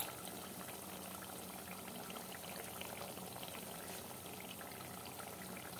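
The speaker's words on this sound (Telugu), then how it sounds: "ఈ చింతపండు రసం ఇందులో పోసేస్తున్నాం" Tamarind juice being poured into a simmering fish curry (chepala pulusu), a steady close liquid stream over bubbling, with no voices.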